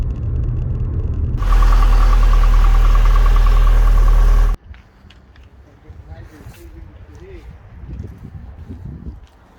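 A Rover Coupe Turbo's engine runs loud and droning in a garage for a few seconds, then cuts off abruptly, leaving quieter rustling and a voice talking.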